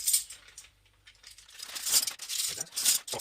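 Loose plastic Amiga 1200 keyboard keycaps drop into a Ziploc bag in a few clattering bursts, a bright rattling cascade of small pieces tumbling together, close up with no voices.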